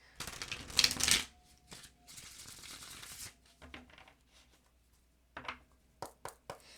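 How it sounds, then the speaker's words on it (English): Tarot cards shuffled and pulled from a deck: a loud riffling burst near the start, softer card-handling rustles through the middle, then a few sharp slaps and taps as cards are laid down, with no talk. "I'm going to pull one of those crazy cards"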